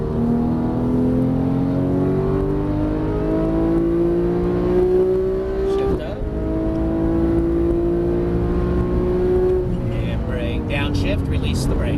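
Porsche 991 GT3 accelerating on a race track, loud close engine note climbing steadily through the gears with a brief shift dip, voices of an instructor present under the engine.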